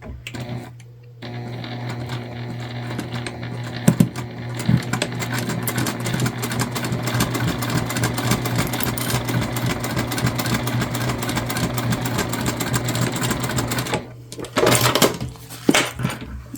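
A sewing machine runs steadily for about thirteen seconds, stitching a shoulder bag's gusset to its base piece. The motor holds an even hum under a rapid needle clatter, and a few clicks sound before and after.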